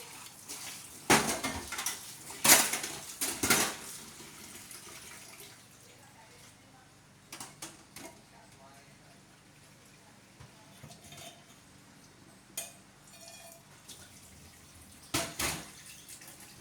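Pots and dishes being washed under a running tap in a home kitchen after a morning breakfast, with loud clattering bursts early on, then quieter scattered clinks and water noise, and faint voices in the background.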